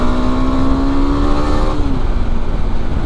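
A KTM 390 Adventure single-cylinder engine pulls steadily in 4th gear from about 4,500 RPM as the throttle opens, a loud, close rising drone with wind rush.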